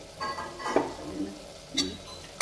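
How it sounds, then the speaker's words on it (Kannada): Food frying in a pan for tomato rice bath, a soft sizzle broken by a few brief scraping stirs of a utensil, short and close, with no talking. "ಚೆನ್ನಾಗಿ ಫ್ರೈ ಆಗ್ತಾಯಿದೆ. ಇದು ಕಾಣಿಸ್ತಾ ಇದೆ ಅಲ್ವಾ, ಫ್ರೈ ಚೆನ್ನಾಗಿ ಆಗ್ತಾಯಿದೆ"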